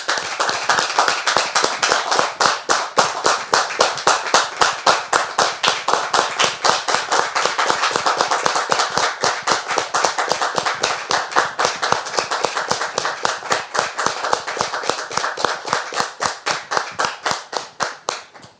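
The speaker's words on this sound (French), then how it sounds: "on la reçoit très cher public avec des applaudissements, s'il vous plaît" An audience claps to welcome a guest onto a French talk show, sharp rhythmic hand claps in a quick steady beat that sound like one close clapper more than a crowd, loud and sustained before tapering off at the end.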